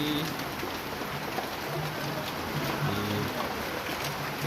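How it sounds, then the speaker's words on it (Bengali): Steady rain patters on wet tree leaves outdoors, a soft continuous hiss with occasional faint drips, moderately quiet and with no voices. "দারুণ বৃষ্টি নামছে, বেশ ভালো বৃষ্টি পড়ছে"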